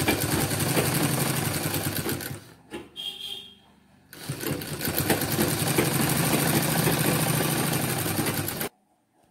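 A sewing machine stitches a folded one-inch hem on the top opening of a medical apron, running loud and steady in close bursts with a short pause midway and a sudden stop near the end.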